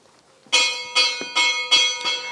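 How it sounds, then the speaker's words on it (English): Bell of a second church in Pollina, Sicily, during a living nativity event, struck five times in a steady rhythm, each ring bright and resonant with a lingering tail, heard alone after a quiet start. "Oh, we have the bell of another church"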